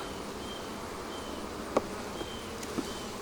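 Honey bees drone continuously around a hive during a colony split, a dense, even buzz with a couple of faint clicks and no voices.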